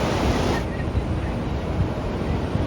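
Pacific Ocean waves breaking and washing over the sand at Torrey Pines beach in La Jolla, California, a steady wide roar of surf with wind, heard alone at moderate level.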